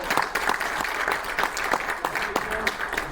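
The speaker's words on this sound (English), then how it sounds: "I want to give a nice round of applause for Cider Belly Donuts." Applause for Cider Belly Donuts at a regional gathering, a moderate crowd clapping in a room with distinct individual claps audible throughout, fairly close and steady.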